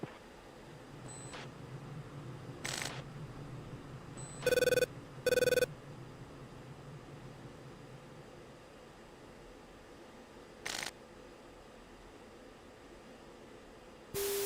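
A telephone rings in two short, loud bursts, each a brief electronic trill, over a steady low hiss and faint background hum, with no voices.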